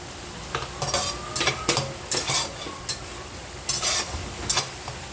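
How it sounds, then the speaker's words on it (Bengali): Spice masala with added chili is stirred and fried in a pan for a spinach-leaf curry, giving a low sizzle under repeated scraping spoon strokes and metallic clinks in uneven bursts. "এখন মশলাটা ভালো করে কষাই না, মরিচ আর একটু দিয়ে দিলাম।"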